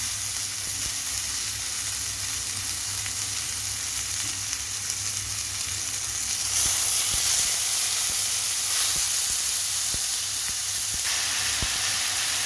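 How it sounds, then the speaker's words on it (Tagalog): Steady sizzling and crackling of chicken frying in hot oil, a continuous close hiss with occasional sharp pops and no talking. "Iprito muna natin guys ang ating manok, ang ating chicken."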